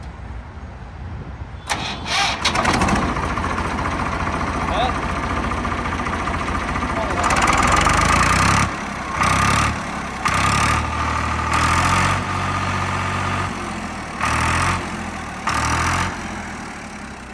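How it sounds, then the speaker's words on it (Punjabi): A Swaraj tractor's diesel engine cranks and fires suddenly, then settles into a loud, steady idle nearby, with brief revs and pauses while people talk over it. "ਟਰੈਕਟਰ ਦੀ ਆਵਾਜ਼ ਦੇਖੋ"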